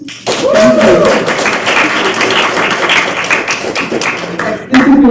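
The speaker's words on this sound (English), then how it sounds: "Another round of applause, please." An audience at a keynote talk breaks into a round of applause, dense rapid clapping that swells and then thins out, with voices rising briefly near the end.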